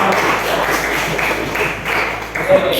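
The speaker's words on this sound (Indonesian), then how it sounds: "Wah, tepuk tangan dulu dong." Schoolchildren in a classroom clap their hands together in a dense, steady burst of overlapping claps that runs throughout, fairly loud and close, with faint voices mixed in.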